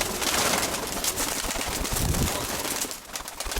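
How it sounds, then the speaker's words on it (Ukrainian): Pigeons coo close by, a steady run of soft throaty calls layered over dense rustling and background noise, with no talking. "Ось голубок."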